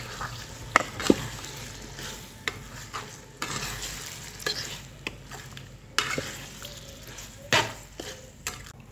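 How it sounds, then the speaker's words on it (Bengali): Beef spleen being stirred and fried in spice masala in a pan, a continuous sizzle broken by sharp scraping knocks of the spoon at irregular intervals, close and moderate in level, with no voices. "মশলার সঙ্গে তিল্লিগুলোকে খুব সুন্দরভাবে কষিয়ে নেব।"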